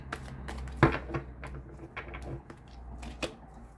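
Tarot cards shuffled and cut by hand during a reading, giving soft papery riffles and taps with one sharper slap of the deck near the start, close and quiet, with no talking.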